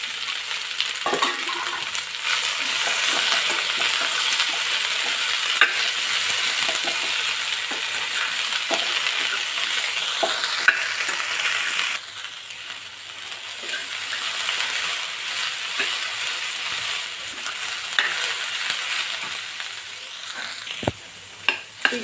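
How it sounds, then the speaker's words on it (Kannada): Okra sliced into a pan with potatoes sizzles and fries steadily, with a constant hiss broken by occasional stirring scrapes and clinks, quieter in the second half. "ಈಗ ಇದಕ್ಕೆ ಬೆಂಡೆಕಾಯಿನ ಹಾಕ್ಕೊಂಡು ಫ್ರೈ ಮಾಡ್ಕೊಳ್ಳೋಣ."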